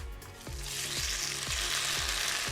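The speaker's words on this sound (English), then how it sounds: "we're just going to go in with a bit of sesame oil into our very hot wok" Sesame oil crackles loudly in a very hot wok, a continuous bright sizzle punctuated by regular knocks and scrapes about every half second.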